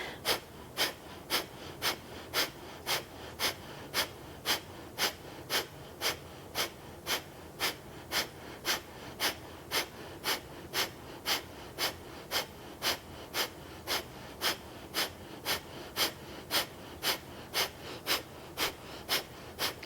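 Slow, regular breathing during a yoga practice, about two dozen evenly spaced breaths in a row, close and quiet, with no talking.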